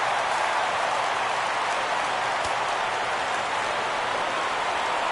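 Steady roar of a stadium crowd cheering in a baseball video game on PS4 as the count goes full, a dense, even wash of noise holding level and loud throughout.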